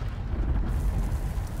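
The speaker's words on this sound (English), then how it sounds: "Those explosions exposed some more bloodstones." Explosions in the Guild Wars 2 video game, a deep rumbling blast sustained as a dense low roar, loud and steady with no speech over it.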